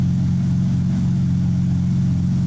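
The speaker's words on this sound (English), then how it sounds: "But it actually seems to be idling pretty good." The engine of a manual-swapped BMW E36 idles steadily and close up, a constant low throbbing hum with no revving and no voices.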